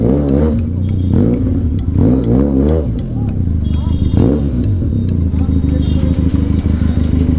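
A Benelli TRK502X twin-cylinder motorcycle revving hard, repeated sharp rising and falling engine blips close by, with someone talking over parts of it and some crackle between revs.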